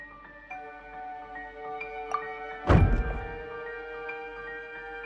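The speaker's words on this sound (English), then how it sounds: "I seem to have accidentally knocked over a decoration." A decoration gets knocked over inside the Genshin Impact video game, making a single sharp thunk about midway through, heard over a quiet sustained musical background.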